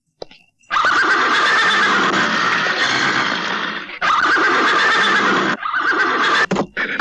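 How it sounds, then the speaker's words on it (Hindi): A horse neighs in long, loud, shrill whinnies, three drawn-out calls separated by short gaps, close and unaccompanied by speech. "आपके घोड़े को क्या हो गया आज?"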